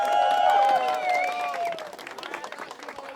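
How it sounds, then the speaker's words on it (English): A crowd cheers and claps loudly, with whoops rising over the applause before it thins into scattered clapping. "Round of applause for your host."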